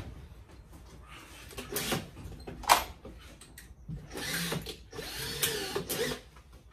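A power driver sinks screws into soft timber while an armrest for an Audi TT is built, giving several short whirring bursts with a clunk between them, close and moderately loud.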